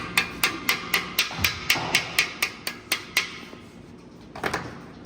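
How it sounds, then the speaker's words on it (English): A hammer taps an LS engine crankshaft main cap down onto its seat, striking about a dozen quick, evenly spaced metallic blows. A short pause follows, then a couple of lighter taps, all close by and without speech. "Make sure that we tap it down to get it seated."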